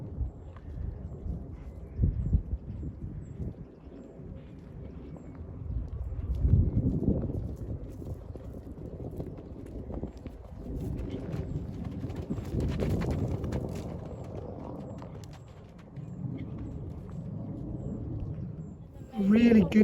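Horse hooves trot across a cross-country schooling course, thudding over a skinny fence and up a bank, a steady muffled rhythm with some breathy wind noise and a rider's talk mixed in.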